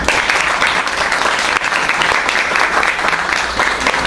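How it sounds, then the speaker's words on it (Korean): Loud, dense applause from an audience at a youth unemployment town hall meeting, honoring the committee chairman, sustained steadily throughout without a break. "위원장님께는 박수 한번 부탁드립니다"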